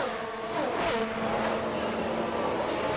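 Race car engines in F1 Manager 22 whine and roar as one car overtakes another, rising to a loud close pass and then holding a steady buzz.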